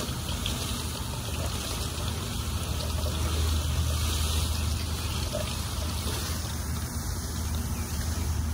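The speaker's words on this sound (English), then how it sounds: "watering the zucchini over here" A garden hose sprays water onto zucchini plants, a steady, fairly loud rushing splash with continuous trickling and no talk over it.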